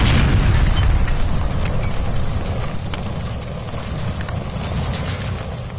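A gas line explodes in a video game, a loud low rumbling blast that starts at full strength and slowly decays over several seconds with crackling debris on top.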